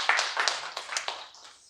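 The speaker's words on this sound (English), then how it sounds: "A big applause for the lady." Brief burst of clapping from a conference audience applauding a speaker at an India-Europe cooperation session, several quick uneven claps fading out within two seconds, moderately close and fairly quiet.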